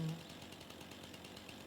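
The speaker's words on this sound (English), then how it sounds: "go ahead and get my chainsaw out, cut it down" Chainsaw cutting down a tree in the game Farming Simulator 25, a steady buzzing, rasping drone with slight pulsing, moderately loud and without speech.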